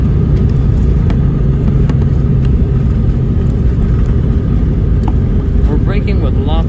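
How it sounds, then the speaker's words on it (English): Cabin of a Latam Airbus A319 braking hard after landing, a loud steady roar and rumble of engines and wheels, with a person speaking faintly near the end. "We're braking with lots of power."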